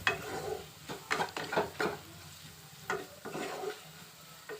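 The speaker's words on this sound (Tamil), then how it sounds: "ஒரு தடவை நல்லா மிக்ஸ் பண்ணி விட்டுருங்க எல்லாத்தையும்." Eggs being mixed with pepper, chili powder and garam masala for a spicy egg dosa: a handful of quick, close clinking and scraping stirring strokes in short bursts, fairly soft, with no talking.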